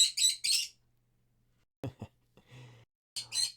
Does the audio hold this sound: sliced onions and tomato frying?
no